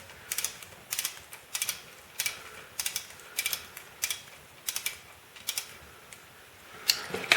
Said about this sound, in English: Snug it, and I'll do it with my hand Allen wrench here.